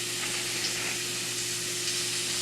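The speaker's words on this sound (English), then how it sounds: "Now you're going to hear a little sizzle, which is a good thing." Dense, even sizzling of chicken blackening in a hot pan, close and constant, with a low hum beneath it.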